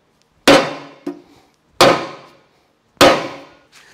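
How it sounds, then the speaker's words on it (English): Three heavy dead blow hammer strikes on a part of an Allis Chalmers D17 tractor, spaced evenly apart, each a loud, close dull thud followed by a lighter rebound knock. "Just using a dead blow hammer."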